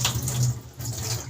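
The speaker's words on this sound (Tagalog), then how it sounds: "Isahin natin yung tubig." Water pours from a tap into a pot of freshly harvested rice, a steady gushing splash with a low hum underneath, brief and fairly quiet.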